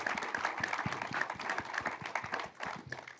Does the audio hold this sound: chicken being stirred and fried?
no